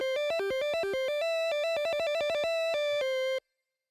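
A monophonic synth bass called capacitation, played high, plucks a rapid staccato pattern of bright, buzzy notes that settle on one repeated pitch, clean and alone before stopping abruptly.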